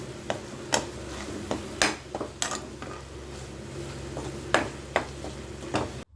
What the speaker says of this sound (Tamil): அடுத்து நம்ம அரைச்சி வச்ச வரமிளகாவும் வெந்தயத்தையும் சேர்த்து மிக்ஸ் பண்ணிக்கலாம்